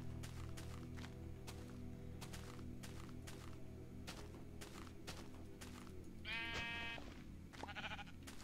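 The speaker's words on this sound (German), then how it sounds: "Bleibt da, Schafe!" Sheep in the game Minecraft bleat briefly near the end, a short wavering call over a steady hum with repeated soft clicking and footstep-like taps.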